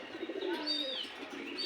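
Iceberg racer and Hyderabadi Nili pigeons coo close by, a soft, throaty warble rising and falling in one continuous phrase.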